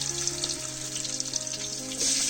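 Bay leaf and onion sizzle in hot oil for a riverside village biryani, a steady close frying hiss with faint background tones and a brighter surge near the end.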